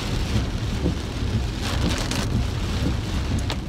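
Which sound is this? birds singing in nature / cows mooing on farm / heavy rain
heavy rain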